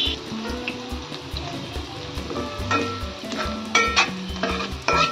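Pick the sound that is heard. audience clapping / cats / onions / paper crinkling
onions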